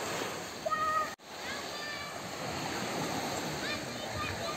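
Sea waves wash at the shore in Peschici, Italy, a continuous soft rush of surf heard under a voice, with one brief sharp dropout partway through.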